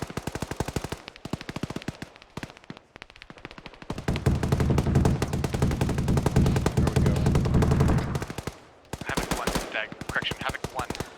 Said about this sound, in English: Be advised that gun run's coming in time now.